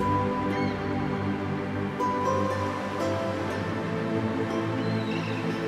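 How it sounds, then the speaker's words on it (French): Ocean waves washing onto a beach, a steady broadband surf rushing continuously at moderate level, with no talk over it. "Mon hamac grince légèrement à chaque balancement et semble faire un duo avec le bruit des vagues"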